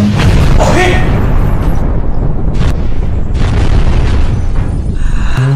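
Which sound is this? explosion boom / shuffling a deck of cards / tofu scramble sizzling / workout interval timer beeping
explosion boom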